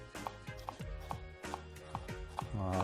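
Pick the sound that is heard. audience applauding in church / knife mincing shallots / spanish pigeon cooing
knife mincing shallots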